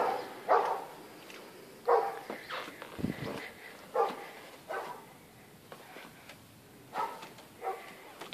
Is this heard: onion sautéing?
no